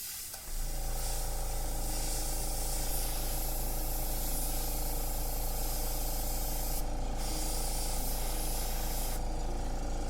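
Airbrush spraying paint highlights onto artwork: a steady, continuous hiss of air and paint running nearly unbroken for about ten seconds at close range, with two brief surges partway through.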